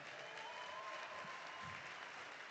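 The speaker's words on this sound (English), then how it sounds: "I'd like a rousing round of applause for the volunteers that make this happen" Audience applause at a boxing hall of fame induction ceremony, a steady dense clapping that fills the hall at even volume throughout, with no voices over it.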